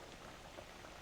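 Black sesame porridge simmering gently in a pot, giving off a soft, steady bed of small bubbling pops that runs continuously at low volume with no voices.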